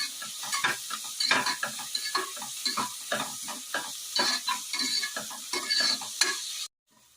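Onions frying until golden for a vegetable pulao, a sizzling pan under a busy rhythm of repeated spatula stirs and scrapes, close and fairly loud, cutting off abruptly near the end.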